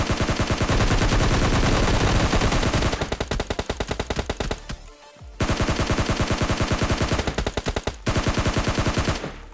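Rapid bursts of AKM automatic rifle fire in PUBG Mobile Lite, loud and close, firing in long sustained strings broken by a short pause midway and brief gaps near the end.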